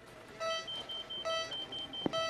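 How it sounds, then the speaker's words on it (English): A beach house security alarm signals a break-in with repeated electronic beeps in short bursts, fairly faint, plus a brief knock near the end; no talking. "Security alarm at the beach house."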